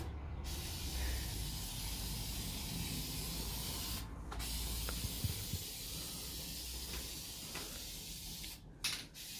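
An aerosol spray paint can hisses in long continuous bursts while painting a car parcel shelf, with brief pauses between sprays and faint handling clicks nearby.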